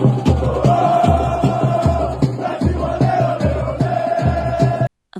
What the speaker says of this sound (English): The crowd is loud. Yes, the fans are chanting.